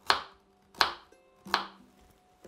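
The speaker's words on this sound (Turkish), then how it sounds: "Evet, havuçlarımız doğrandı." Three sharp knife chops through carrots on a board, evenly spaced about three-quarters of a second apart, close and crisp, with no voices, while vegetables are prepared for oven-baked salmon.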